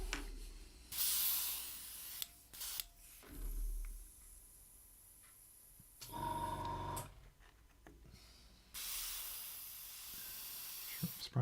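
An airbrush sprays paint over a scale model aircraft in short hissing bursts, several separate blasts of air with pauses between, close and fairly quiet.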